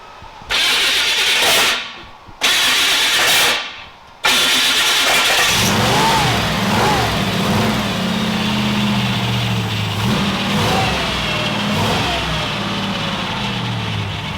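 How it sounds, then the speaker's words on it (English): After a few short cranking bursts, a car engine fires and runs with a deep, throaty exhaust rumble that rises and falls steadily. "Exhaust sounds good."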